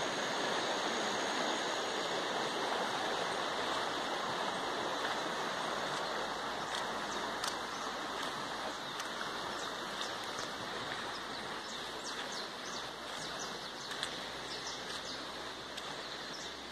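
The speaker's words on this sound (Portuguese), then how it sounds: "a água vem correndo tudo da estrada" Rainwater rushes off a rural road near Guaranésia, Minas Gerais, making a constant, broad watery roar like a small stream, with faint birds in the background.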